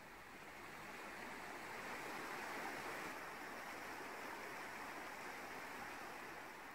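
A waterfall pours steadily, a dense, even rush of flowing water heard alone at low volume without any voices.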